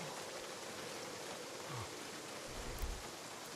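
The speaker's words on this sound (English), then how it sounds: "It's nice that we got some rain." Steady rain falls in the video game A Ranger Remains, a soft, even hiss of drops that holds through the whole clip, with a few faint low thumps underneath.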